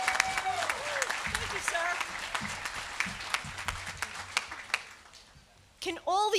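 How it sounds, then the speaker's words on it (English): Audience applause for newly sworn United States Army enlistees at a community salute event: a steady wash of clapping from a room full of people that thins toward the end, with a brief spoken thanks over it. "Can all the enlistees please stand so we can give you a round of applause?"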